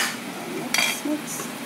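A utensil stirs pork tenderloin sauce simmering in a pan, a continuous wet sizzling scrape with a couple of brief metallic clinks against the pan, close and fairly loud.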